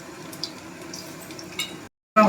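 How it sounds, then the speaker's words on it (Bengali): Pakoras frying in hot oil, a steady close crackling sizzle that runs continuously before a brief break and then resumes louder. "ঠিক আছে, আমি ভাজছি"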